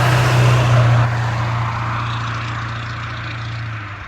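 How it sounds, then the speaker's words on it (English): A loud truck rumbles past on a road near the Arizona Trail. A deep, droning engine roar is strong at first, then eases slightly into a steady low hum as it continues. "Oh, this truck is super loud."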